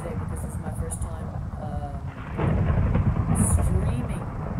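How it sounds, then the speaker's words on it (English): Thunderstorm in the Minecraft video game, with broadband rumbling rain and thunder that swells louder midway and continues steadily, while a voice talks over it. "Now it is a thunderstorm."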